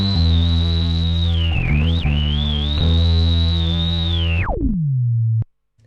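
A bass guitar runs through a synth effects pedal, making a loud, buzzy, synthetic tone with a sweeping filter that wobbles, then drops sharply in pitch and cuts off near the end.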